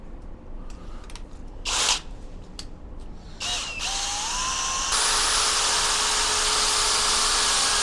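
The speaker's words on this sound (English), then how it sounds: "we use a plastic paddle on a drill to really kind of whisk it up" Power drill fitted with a plastic paddle whisking paint for a classic car restoration, starting after a few short bursts and then running as a steady, loud whine with churning underneath.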